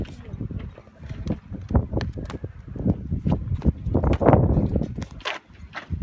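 Gusty wind buffets the microphone in uneven bursts and rumbles, with people talking intermittently underneath.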